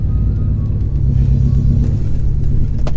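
A modified BMW M5 F10 with an engine shaking badly from a suspected coil fault: a loud, deep, rough rumble that holds steady throughout, with a brief sharper rev burst near the end and no voices.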